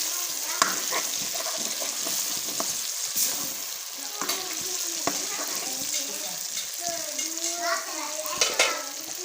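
Fish frying with fish masala in a pan while being stirred: a steady, close sizzle with scattered scrapes and clinks from the stirring throughout.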